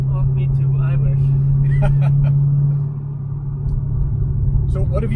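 Corvette C6 V8 engine with an aftermarket throttle body idling nearby, a steady low rumble that drops slightly in level partway through while people talk over it.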